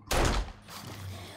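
A single loud gunshot from the video game 7 Days to Die bursts out close and heavy, then trails into a short rumbling echo.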